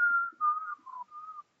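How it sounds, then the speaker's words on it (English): A person whistles a short tune alone, four clear, sustained notes gliding slightly downward in pitch over under two seconds, close and clean with no other sound. "I was whistling."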